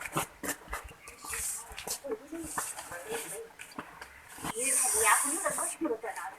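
Close-up sound of a Russell's viper, a venomous snake, giving breathy hissing bursts, with a loud sustained hiss near the end, mixed with people talking and a dog whimpering nearby.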